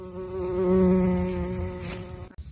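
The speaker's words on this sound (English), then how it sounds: "Only bumblebees can push their way in, and even they don't always succeed." A bumblebee buzzes loudly and up close among tightly closed purple bottle gentian flowers, a steady droning hum that swells and then cuts off abruptly.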